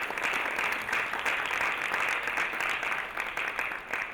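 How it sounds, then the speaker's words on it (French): An audience at a conference panel event gives sustained, dense applause, a steady wash of clapping from many hands that holds evenly throughout. "il faut une avalanche d'applaudissements"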